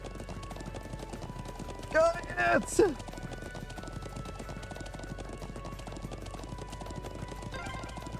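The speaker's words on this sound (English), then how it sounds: "I'm glad I still remember how to ride a horse." Horse hooves galloping in the video game The Legend of Heroes: Trails of Cold Steel II, a steady beat running under continuous game music, with a brief shouted voice and a short whinny near the start.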